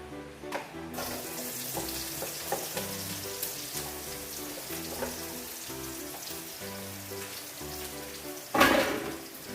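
Chopped onion drops into oil that has been heated for about 30 seconds while making chicken-flavour Indomie noodles. A steady close hiss of frying with light stirring clatter runs throughout, and a louder sputtering burst comes near the end.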